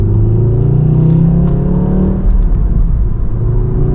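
A six-year-old Volkswagen Golf R MK7 with about 44,000 miles accelerates hard, its engine a loud, close, steady droning rumble that rises in pitch and then eases, heard from inside the car.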